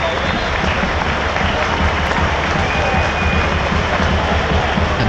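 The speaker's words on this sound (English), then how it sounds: "And the applause for the attendance." Football crowd at a National League match between Southend United and Gateshead applauds steadily and densely throughout, a broad wash of clapping from a large stadium audience of several thousand.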